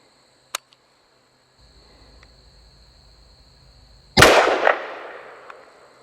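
A single loud rifle shot from an enhanced SBR at an outdoor range, a sharp crack with a decaying echo, heard after quiet moments filled with insect chirping and a faint earlier click.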